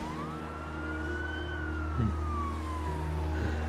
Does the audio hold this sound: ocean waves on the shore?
no